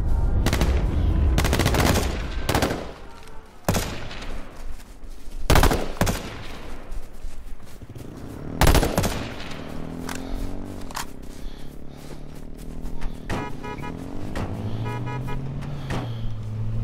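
Gunfire in the battle royale video game H1Z1, several sharp loud shots and bursts in the first half, then quieter game sounds and tonal effects.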